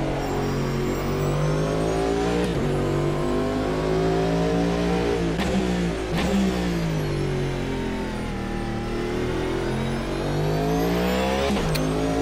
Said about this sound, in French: Plus discret le moteur, électrique en tout cas.